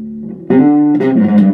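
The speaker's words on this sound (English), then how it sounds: "It's also got a drive if you want to add some grit to your playing." A bass guitar run through a preamp with its drive engaged plays a sustained, gritty distorted note followed by a couple of further plucked notes, loud and close with no talking.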